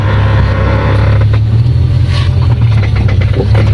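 A car engine runs close and loud as the vehicle arrives home, a steady low rumbling drone with a slight rise and fall, and no talking over it.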